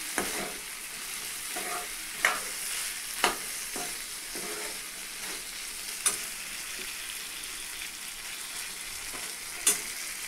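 Katwal vegetable simmering with dal in a pan gives a steady, close sizzle and bubble, broken by a few sharp spoon taps and scrapes against the metal. No one speaks.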